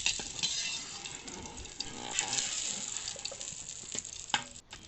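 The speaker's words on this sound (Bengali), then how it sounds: "হালকা তেলের মধ্যে এটা ভেজে নিচ্ছি" Chilies frying in a little oil in a pan, a close, steady crackling sizzle with a few brighter pops and stirring clicks, heard on its own with no talking.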